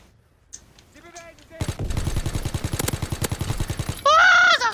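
Gunfire and explosions from a WW2 first-person shooter after a grenade throw: a rapid burst of loud, evenly spaced shots crackles for a few seconds, preceded by a short tone and followed by a sharp, loud final blast.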